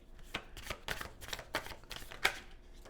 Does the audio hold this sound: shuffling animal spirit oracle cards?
yes